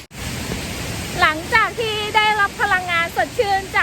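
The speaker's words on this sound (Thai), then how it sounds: "น้ำตกชั้นแรกนะคะ" Broad, steady roar of the first tier of Saphan waterfall in Nan, Thailand, a continuous close rush of falling water under a voice speaking through most of it.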